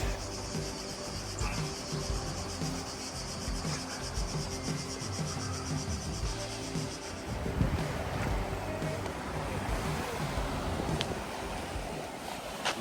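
Gentle waves wash onto a peaceful pebble beach at Malinka, Croatia, a soft steady surf hiss with faint insect chirping in the background and no talk.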